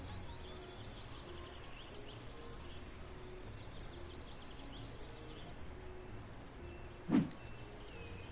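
Quiet birdsong ambience in Cities: Skylines: thin repeated chirps float over a low, even background, broken near the end by a single short knock.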